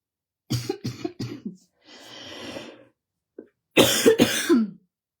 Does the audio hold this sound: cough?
yes